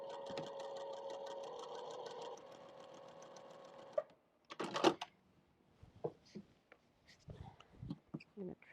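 A sewing machine stitches a 45-degree line across a small quilted mug rug in one steady, fairly close run of rapid needle clatter, then stops, followed by a few quieter handling clicks and rustles.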